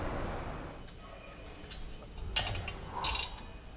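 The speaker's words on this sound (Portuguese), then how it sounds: "vamos soltar aqui esses 4 parafusos do downpipe" Wrench loosening the four downpipe bolts on a Subaru turbo-engined buggy: a few quiet mechanical clicks and ratcheting bursts, close by, with two sharper metallic clatters near the end and no talk.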